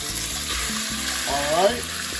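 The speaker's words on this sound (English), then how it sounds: "We're gonna start browning the meat." Beef browns in hot oil in a pan, giving a constant loud sizzle close by, with a brief vocal murmur partway through.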